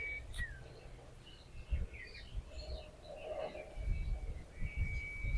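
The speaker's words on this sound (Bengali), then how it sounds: "আর বিভিন্ন ধরনের পাখি ডাকছে।" Various birds calling in quiet, tree-filled surroundings beside the Kopai river at Shantiniketan: scattered chirps and short whistled calls, some near and some farther off, over a low outdoor rumble with no talking.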